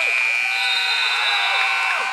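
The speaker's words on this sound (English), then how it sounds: "Shot is no good at the buzzer" A basketball game-end buzzer blares at a high school game, a steady loud tone holding throughout over the gym crowd.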